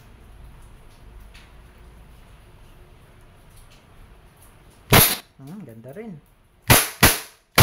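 A pistol fires several sharp, loud shots nearby: one crack, then after a pause a quick cluster of three, with a brief voice between them and a quiet stretch beforehand.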